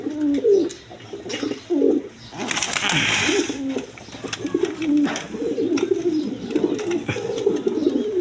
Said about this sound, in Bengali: দেখেন পেশোয়ারি কবুতর, পাকিস্তানি পেশোয়ারি কবুতর